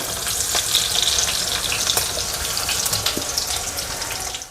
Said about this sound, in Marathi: असे सगळं तेलात व्यवस्थित भाजून घ्यायचं